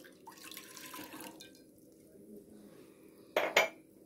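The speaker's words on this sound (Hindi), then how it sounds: "पहले हम इसमें पानी डाल देंगे।" Water poured into a pan on the stove to start a sugar syrup for gulab jamun, a soft trickling splash early on, then quiet kitchen sounds and a sharp clatter of metal near the end.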